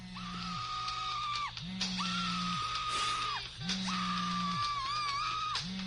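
A looping ringtone repeats a rising and falling tonal phrase, with a high screaming voice wailing in time over it, steady and continuous.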